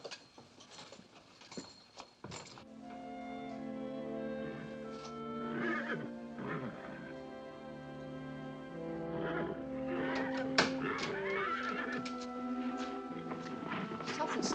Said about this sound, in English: Something's scaring the horses.